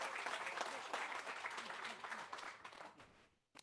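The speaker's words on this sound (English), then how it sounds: "A round of applause" Applause from the audience at a Homes for Our Troops key ceremony for an Army veteran: dense, sustained clapping that stays loud for about three seconds, then fades and stops near the end.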